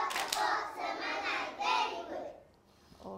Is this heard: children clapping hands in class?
yes